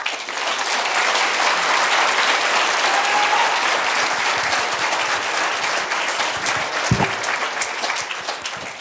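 An audience welcomes author Richard Paul Evans with sustained, dense applause that fills the room at a steady level from start to finish, with no talk over it.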